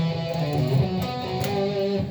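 Guitar playing the harmony part of a song's intro: a short run of sustained, distorted melodic notes, close and moderately loud, with no talking.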